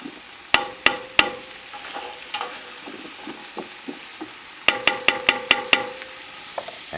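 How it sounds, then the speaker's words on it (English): Soft sizzling from a pot of minestrone vegetables including carrots, punctuated by sharp clanks of a utensil against the pot, a few at first, then a quick series. "you could hear it sizzling and going. You want to stir it up so you don't burn it."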